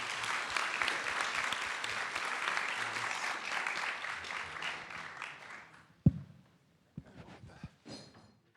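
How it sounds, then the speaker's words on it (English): A round of applause for panelists at a conference forum, steady for about six seconds before tapering off, followed by a few scattered knocks and bumps in a quieter room. "We can give a round of applause to the panelists."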